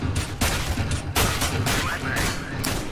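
Rapid bursts of Tech-9 pistol fire in Counter-Strike, a dense crackling string of shots with brief gaps, loud and close, over game background noise.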